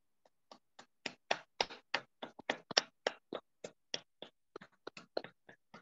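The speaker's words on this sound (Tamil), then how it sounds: "எம்மை நாம் பாராட்டி கரகோஷம் செய்து கொள்வோம்." A small group at a Tamil meditation gathering claps in sparse, uneven hand claps, a couple dozen sharp distinct strikes over several seconds, fairly quiet with silence between them.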